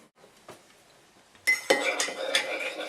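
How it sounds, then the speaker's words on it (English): A spoon clinks and scrapes against a cup while stirring chocolate into a mocha, quiet at first and then several bright, close ringing taps, with no talk. "stir in, because I have chocolate on the bottom, stir it all in"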